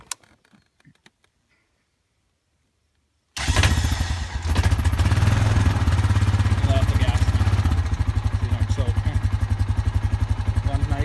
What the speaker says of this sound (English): Now we're gonna start up the 2001 Honda Foreman S.